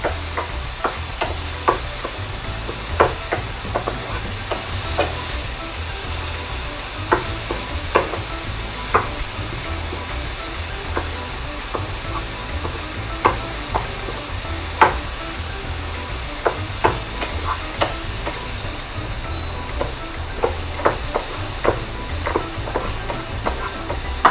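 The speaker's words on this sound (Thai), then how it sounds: "รวนก็ได้ค่ะ รวนหมูให้สุก" Pork is stir-fried in soup stock instead of oil, a steady hissing sizzle with frequent sharp clacks of a spatula against the pan at an uneven, busy pace.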